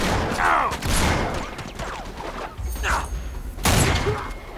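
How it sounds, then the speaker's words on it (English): Gunfire rattles through a Syria level of Uncharted 3 in splitscreen co-op, with bursts of shots, thuds and mechanical clatter under loud game sound and music, close and busy throughout. "Who is shooting?"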